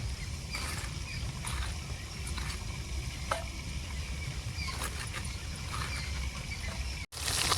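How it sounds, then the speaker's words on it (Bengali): Fish heads fry in hot oil, giving a steady, even sizzle that holds close and constant, with a brief dropout just before it ends. "মাথাগুলো ভেজে নেব"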